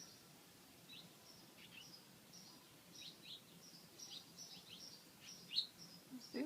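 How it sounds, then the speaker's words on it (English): Small birds near a nest on a porch give faint, brief chirps and tweets scattered over quiet outdoor background noise, a little distant. "There are some birds that are flying around in here."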